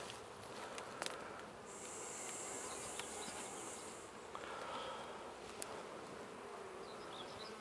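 A honey bee colony buzzes around an open hive at close range, a soft, steady drone with occasional louder passes from single bees and a few light knocks, and no speech.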